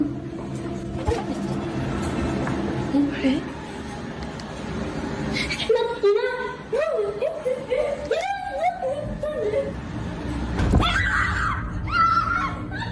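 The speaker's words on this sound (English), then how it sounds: "Why did they start screaming?" Girls scream and shriek loudly and nearby in bursts through the middle of the sequence, mixed with nervous laughter and giggling, against ongoing background noise.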